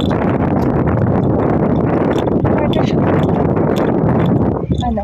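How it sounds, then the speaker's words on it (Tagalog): Constant loud winter wind in Finland roars against the microphone throughout, a dense rumbling wash, with a brief spoken phrase underneath. "Oh, parang, lalong lumalakas ang hangin."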